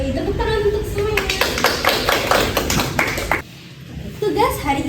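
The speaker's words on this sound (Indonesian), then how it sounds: "Tepuk tangan untuk semuanya." Students in a classroom clap together in a brief burst of quick, close hand claps layered over a teacher's talking, after which the room falls quieter and the voice resumes.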